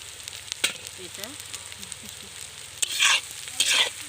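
Whole spices — cinnamon, black cardamom, cloves and black peppercorns — frying in a pan for a chicken kosha, a soft steady sizzle with scattered clicks and two louder bursts of stirring near the end, no talk.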